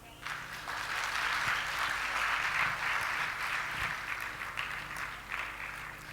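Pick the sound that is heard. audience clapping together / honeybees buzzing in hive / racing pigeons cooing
audience clapping together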